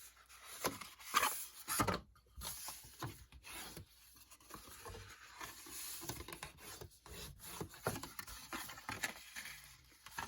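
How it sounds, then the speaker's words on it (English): A bone folder rubs firmly along score lines on a paper chocolate bar sleeve, making soft, close scraping and rubbing strokes in irregular short bursts. "I'm going to take my bone folder and make nice crisp edges on those score lines."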